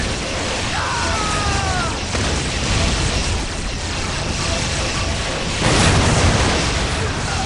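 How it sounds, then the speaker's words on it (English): Grenade explosions in Warhammer 40K: Dawn of War, dull booming bursts over a busy battle din, with a heavier blast near the end, a voice briefly heard underneath. "Let the grenades fly!"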